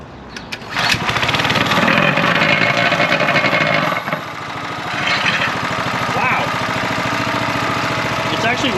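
A VEVOR plate compactor's small gasoline engine catches and runs steadily close by, its droning chug continuing with a slight change in pitch midway, while someone talks over it.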